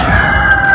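A rooster crows in daytime on a farm, a short, loud, strained call with a sustained tone, heard close by.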